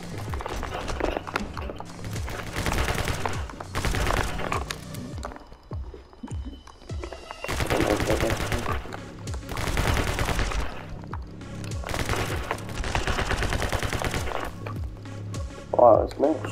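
Gunfire in the video game My Friend Pedro, with rapid bursts of shots in clusters separated by short pauses, loud and up front, over game music.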